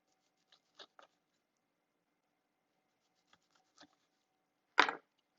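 Knife slicing through lemons on a cutting board during preserved-lemon prep: a few soft, scattered cuts followed by one sharper, louder chop near the end, with quiet between.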